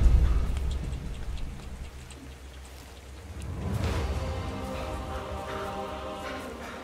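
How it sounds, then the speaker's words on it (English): Acid rain in the survival video game ARK: a steady rain hiss with pattering drops, fading briefly then swelling again and holding at moderate loudness for the rest of the clip, with no talk over it. "Acid rain, uh-oh. It's not something I like to hear."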